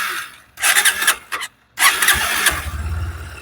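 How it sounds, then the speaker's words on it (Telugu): A 2025 Honda Hornet 2.0 motorcycle is started up close, giving two short loud starter-and-engine bursts separated by a brief gap, then a third catch that settles into a low, steady idle. "ఒకసారి ఇగ్నిషన్ అనేది ఆన్ చేసుకొని మీకు ఎగ్జాస్ట్ నోట్ అయితే వినిపిస్తాను"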